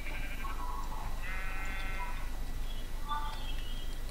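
Sheep in the Minecraft video game bleat a few times, short wavering calls spaced apart over a constant low background hum.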